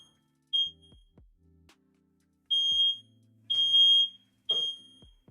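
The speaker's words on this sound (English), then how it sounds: "My fire alarm going off" A household smoke detector sounds several sharp, high electronic beeps in separate bursts over a quiet room, loud and close, with short gaps and a few faint knocks between them.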